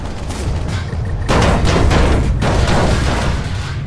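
An aircraft fires its guns in the video game Planetside 2, a loud dense burst of rapid booming shots that steps up sharply partway through and continues over a constant roar of engine noise.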